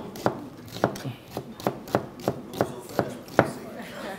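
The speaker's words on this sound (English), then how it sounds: "I'm just gonna slice this onion right here" A knife slices through a whole onion on a cutting board, making eight crisp, evenly spaced chops close by, each a sharp thud with a brief crunch, with no talking.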